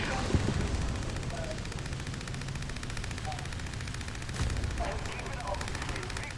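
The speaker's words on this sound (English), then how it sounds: "Artillery down there." Distant artillery and gunfire rumble through a multiplayer war video game battle, low booms and crackling shots sustained across the scene, with a voice talking intermittently over the combat.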